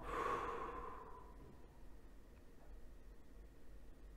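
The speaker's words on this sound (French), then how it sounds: "le nez inspire et la bouche expire" One slow, audible breath, drawn in through the nose and let out through the mouth, starting with a soft airy exhale up close before fading into quiet room noise.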